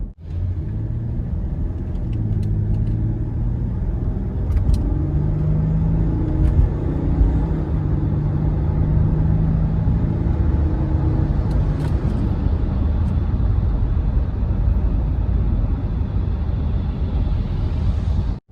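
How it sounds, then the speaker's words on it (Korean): Inside a 2014 Hyundai Veracruz 4WD 300VXL on the road, a steady low engine and road rumble builds and holds as the SUV accelerates toward highway speed, with no talking. "네, 저희가 가속을 해봤는데요."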